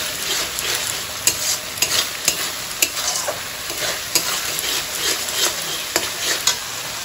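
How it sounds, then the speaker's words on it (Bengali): Potatoes, tomato, yogurt and spices sauté in a pan with a continuous sizzle punctuated by regular spatula scrapes and taps against the pan, close and steady. "এখানে আলু আছে, টমেটো, টক দই, মশলা সব এখানে কষানো হচ্ছে।"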